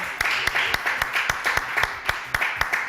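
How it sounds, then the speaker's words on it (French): Scattered hand claps from a small studio audience ring out in an uneven rhythm close by, with a murmur of voices underneath. "Je vous demande d'applaudir mon décor"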